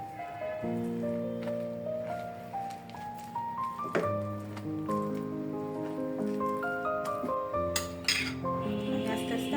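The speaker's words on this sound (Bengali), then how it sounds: "প্রথমে তিন টেবিল চামচের মতো গুঁড়া দুধ দিয়ে দিলাম এখন আমি এটাকে মিশিয়ে নেব" A spoon stirs milk powder into milk in a pan, giving repeated ringing metallic scrapes and light clinks in a continuous close rhythm, with no talking.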